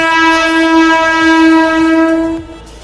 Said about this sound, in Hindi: बगल से यहाँ ट्रेन जा रही है